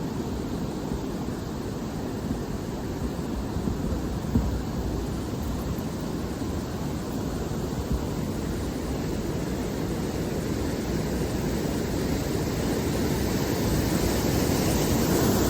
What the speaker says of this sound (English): Listen to that waterfall.